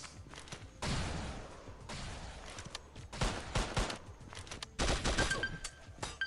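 Rapid bursts of gunfire from the Pixel Gun 3D video game come in repeated volleys of automatic shots with short gaps between them, moderately loud and with no voices.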